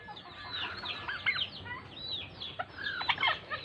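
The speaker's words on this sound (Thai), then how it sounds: "ไก่ลายนะ" Several chickens cluck and chatter close by in a Laotian village, a busy overlapping stream of short calls with occasional louder squawks.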